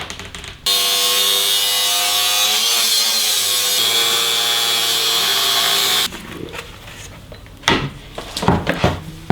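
An angle grinder slices through a steel ball bearing with a loud, steady high-pitched whine lasting about five seconds, then cuts off abruptly, leaving quieter scrapes and clunks of handling the pieces up close.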